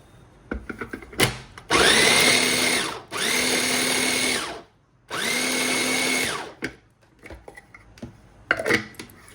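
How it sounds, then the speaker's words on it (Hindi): A mixer grinder blends capsicum with paneer for an easy recipe, running in three loud, steady whirring bursts of about a second and a half each, separated by short pauses and lid clatter, with no talking. "बस इसको एक ही साथ दोनों को ग्राइंड कर देंगे।"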